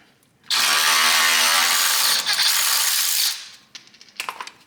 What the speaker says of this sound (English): you're going to need yourself a wrench on one side, socket on the other